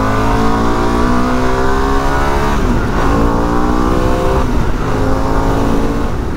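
A Harley-Davidson Pan America motorcycle pulls hard in sixth gear on a dual carriageway, its engine droning loud and near with rising harmonic whine over heavy wind rush, continuous throughout.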